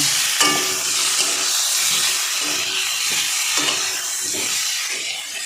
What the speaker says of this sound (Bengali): লবণ হলুদ মাখিয়ে রাখা চিংড়ি মাছটা। সব কিছু একসঙ্গে দিয়ে আমি একটু ভেজে নেব